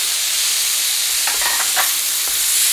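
Tomatoes tipped into onions already frying in a pan bring a loud, dense sizzle throughout, with a few brief clinks and scrapes in the middle and no talking.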